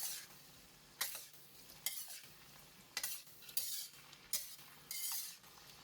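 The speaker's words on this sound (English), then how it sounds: "Now we add in all the mixed vegetables. Give it a stir." Mixed vegetables stirred in a pan, with scraping bursts of a spatula at about one-second intervals over a soft sizzle, close and moderately loud, with no talking.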